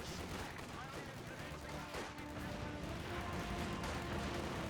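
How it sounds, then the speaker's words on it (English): Dense, continuous gunfire and explosions from a Company of Heroes 2 match, a flamethrower and an MG42 machine gun firing amid loud, steady battle noise with a commentator talking over it. "Flamethrower firing away."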